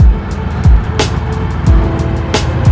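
A car passes close by on a road, its engine swelling and fading, with repeated thumping bumps and brief hissing bursts of air along the way; no talk.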